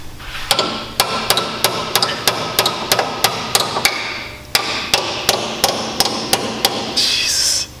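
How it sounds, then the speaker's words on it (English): Steady hammer blows ring out one after another in a quick, even rhythm, wedging an engine mount into place during a K-series engine swap, pausing briefly midway before the striking resumes, loud and close. "Step 4, hammer."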